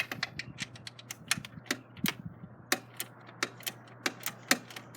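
A wrench ratchets and clicks in a quick, steady series of sharp ticks while loosening a bolt on the lowering link of a Yamaha XSR900 motorcycle, close up, with no talking.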